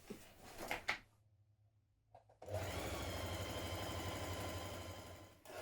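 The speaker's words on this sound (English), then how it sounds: "we're now going to sew in one continuous movement all the way down the sleeve" A sewing machine runs a continuous seam down a sweatshirt sleeve: a few short stitching bursts and a pause, then one long, steady, even whirr of rapid stitches to the end.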